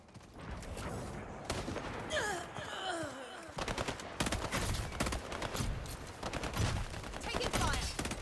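Gunfire in the video game Highguard, repeated sharp bursts and rapid automatic volleys, loud and close, mixed with whooshing effects and background game noise, with a voice briefly speaking.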